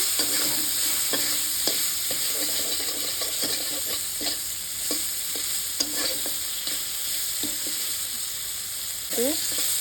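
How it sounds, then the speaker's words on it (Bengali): Potatoes frying in a pan of hot oil while being stirred with a utensil, a constant loud sizzle broken by repeated scraping and knocking strokes, close up. "এরপর ভালো করে আলুগুলিকে নাড়িয়ে নিচ্ছি।"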